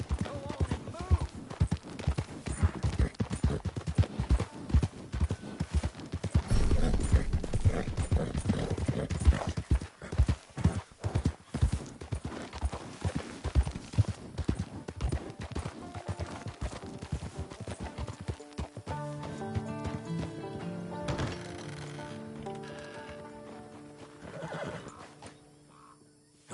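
Horse in the game Red Dead Redemption 2, hooves clip-clopping steadily at close range, then a drawn-out whinny near the end, with game noise and some talk.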